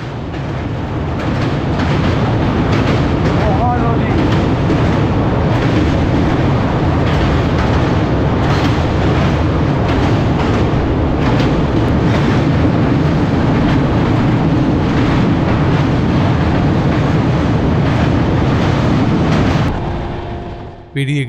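The Howrah–Bengaluru Duronto Express runs at speed with a steady, loud rumble and rattle of wheels and carriages throughout, fading briefly at the very end.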